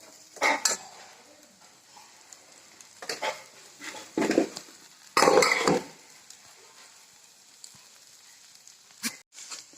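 A utensil scrapes and clinks in a pan while safflower leaf vegetable is stirred, in several short bursts of scraping with pauses between them, close and fairly loud, with no talk.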